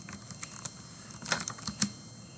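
Keystrokes on a computer keyboard as a Linux firewall command is entered, a handful of sparse, quiet clicks spread over a couple of seconds with a soft hiss underneath.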